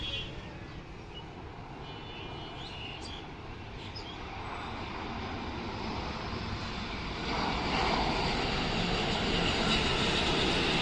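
Continuous roar of an airliner's engines, broad and steady, growing gradually louder as it approaches, heard near the airport at Uttara, Dhaka.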